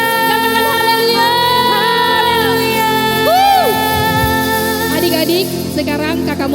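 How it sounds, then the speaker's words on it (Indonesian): Children cheer and shout loudly as a crowd during an online Sunday school worship service for the Ascension of Jesus, with excited whoops rising over music and voices throughout. "Tepuk tangan yang meriah buat Tuhan Yesus"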